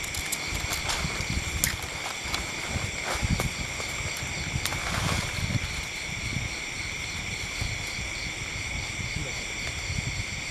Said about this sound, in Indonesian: Ini semakin kencang pemirsa, semakin kencang ini angin-angin.